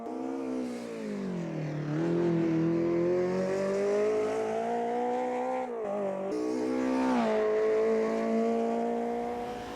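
A Mercedes 190 Evo DTM race car engine in a video game revs loudly and steadily around Cadwell Park, pitch rising and falling through gear changes as it drives on, with no talking.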